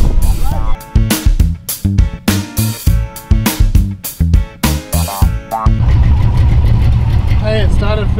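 Chevy car engine cranks with rhythmic starter bursts, then catches and settles into a steady rumbling idle, close and loud.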